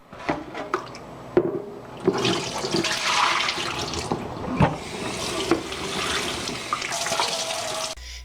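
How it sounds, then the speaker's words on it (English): Cold water runs from a tap onto dolls, a continuous splashing and gushing stream with a few knocks and clunks from handling, close and fairly loud, with no talk. "I'm cooling the dolls down with cold water from the tap"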